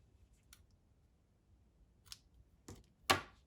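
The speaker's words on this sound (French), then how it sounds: "je coupe ensuite mon fil à ras" Scissors snip crochet yarn in a quiet room: a few faint, light clicks, then a crisper, louder final cut.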